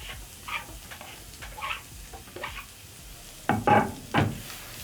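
Onions in a pan with butter and a little oil, a faint steady sizzle under intermittent scraping stir strokes, with a few louder clattering stirs toward the end, close by and with no talking.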